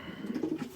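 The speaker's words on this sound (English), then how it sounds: "they're actually cooing away in the boxes" Rare coloured pigeons cooing in nest boxes at an allotment loft, soft low rolling coos repeating close by in a brief burst.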